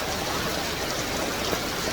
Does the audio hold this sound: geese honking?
no